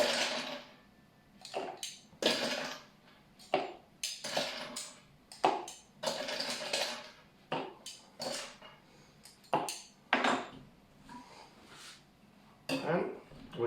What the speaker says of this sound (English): now I will add some ice to the mix